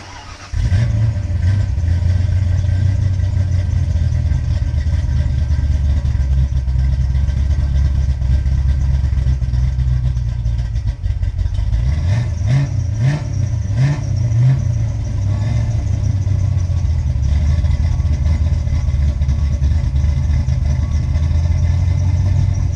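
A Ford Mustang GT 5.0 with Trickflow heads, a Lunati cam and Flowmaster exhaust runs loud and close, a deep steady idle with a burst of throttle revs midway before settling back to a rumbling idle.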